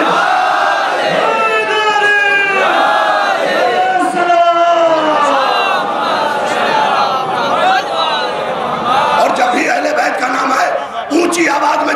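A large crowd at a Shia religious gathering chants the slogan Labbaik ya Hussain in loud, sustained unison, voices rising and falling in repeated waves throughout.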